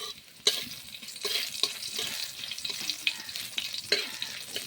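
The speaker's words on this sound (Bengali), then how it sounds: "রসুন একটু ভাজা ভাজা হয়ে যা।" Garlic frying in a pan for a Bengali eggplant and pumpkin-peel stir-fry, a steady sizzle broken by sharp scraping stirs, close and moderately loud with no talking.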